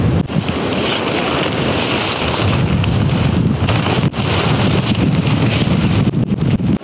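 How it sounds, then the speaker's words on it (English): Strong wind batters a winter tepee campsite in below-freezing cold, blowing loudly and continuously with a roaring rush across the microphone. "the wind is just insane right now"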